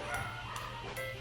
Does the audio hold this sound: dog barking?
yes